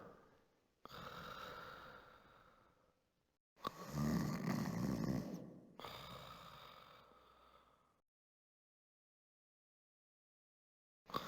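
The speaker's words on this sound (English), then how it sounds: "You hear a curious sound. It sounds like someone snoring." Guards snore behind a door in a 1992 CD-i Bible game: three long, heavy snoring breaths that rise and fall, followed by silence.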